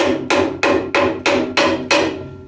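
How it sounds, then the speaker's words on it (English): Six evenly spaced, sharp hammer taps ring out close up as a gearbox crossmember is knocked into place on a car chassis, with wood used to protect the paint. "now it should just tap in"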